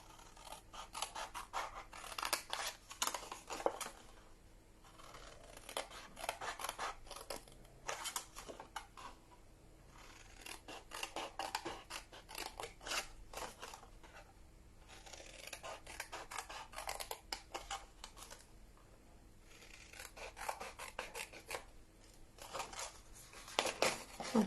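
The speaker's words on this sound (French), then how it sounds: "on va venir couper tout le côté droit ici déjà dans un" Scissors snipping paper for a handmade pencil box, in repeated bursts of quick close crisp cuts separated by short quiet pauses, recorded up close at low volume with no talking.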